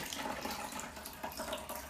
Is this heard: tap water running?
yes